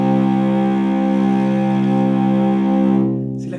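Two sustained notes an octave apart sound together, blending into what seems a single steady, harmonically rich tone that holds evenly for about three seconds before fading.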